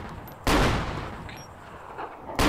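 Gunshots in the DayZ survival video game, two sharp loud reports about two seconds apart, each with a booming echo trailing off outdoors.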